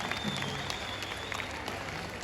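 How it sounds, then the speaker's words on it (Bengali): Audience applause at a live outdoor festival concert in Durgapur, Bengal, a dense steady wash of clapping hands that fills the whole stretch at moderate loudness with a crowd murmur beneath and no speech on top. "একদম জোরে একটা হাততালি হোক।"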